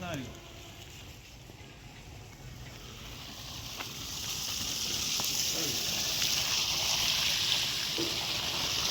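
Water gushes out of a Texmo 1.5 hp, 15-stage, single-phase submersible pump set 300 feet deep, a steady broadband rush that swells louder partway through, with people talking nearby.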